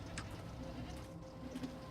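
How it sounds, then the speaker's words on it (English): Goats bleating in the video game Jade Empire, a few short, faint bleats scattered over quiet background ambience. "Oh, and here's some goats."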